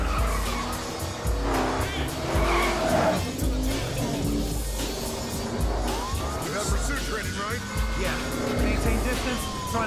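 Game car from Battlefield Hardline engine droning and tires squealing in a skid during a cops-and-criminals multiplayer chase, with a siren and a player's voice talking over the driving.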